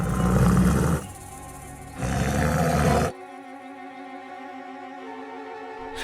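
An animated story effect of a tiger in the jungle gives two loud, rasping roars, each about a second long, followed by sustained musical tones.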